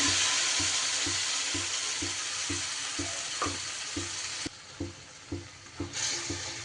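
Spice paste for a vegetarian spinach dish hits hot oil with a loud, continuous sizzle, while a spoon taps the pan in a steady rhythm and the frying quiets partway through.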